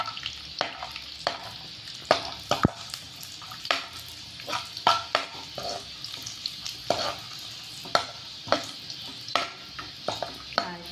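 Almonds and raisins frying in ghee in a small pan, a light sizzle under frequent quick spoon scrapes and clinks against the metal, busy and close, with no one speaking.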